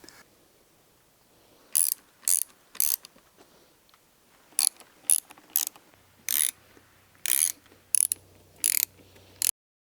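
Screws driven into the aluminum bar of a Barkbusters handguard on a Honda CRF300L motorcycle, a series of short, close ratcheting bursts in an irregular rhythm with brief pauses between them.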